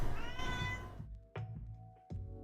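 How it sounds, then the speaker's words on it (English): A house cat meows after knocking a microphone off, close and loud: one long, drawn-out complaining meow followed by two shorter, sharper meows, with brief silent gaps between them and no talking. "Now he's gonna meow and bitch about it."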